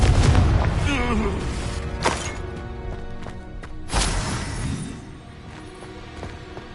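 A Confringo blast spell explodes in Hogwarts Legacy, a heavy booming burst followed by a rumbling decay, then a second blast a few seconds later, with a voice shouting over the action.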